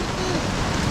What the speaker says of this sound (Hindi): बारिश बहुत तेज़ हो रही थी